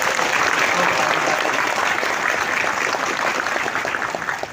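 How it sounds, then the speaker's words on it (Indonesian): An audience at a hotel welcome gathering for Indonesian migrant workers applauds steadily, a dense, loud wash of clapping that holds throughout and tapers slightly at the end, with voices mixed in. "Kita berikan aplaus."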